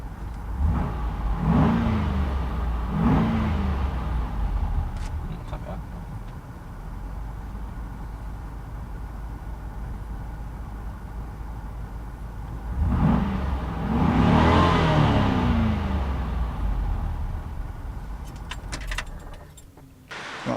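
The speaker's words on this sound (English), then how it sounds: "we're going to start your vehicle as a standard system and give you an idea what it sounds like" A car with its standard stock exhaust starts and revs in a workshop, with two short revs early on, a steady idle, then a longer, louder rev build near the middle before settling back.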